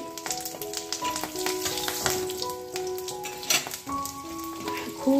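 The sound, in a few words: panch phoron, cumin and chilli sizzling in hot oil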